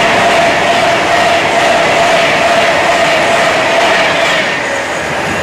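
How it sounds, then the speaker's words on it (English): A Pendolino train roars past at close range on the West Coast Main Line at Acton, a loud, steady rushing rumble with a faint tonal whine that holds throughout and eases slightly at the end. "There is a Pendolino right behind me."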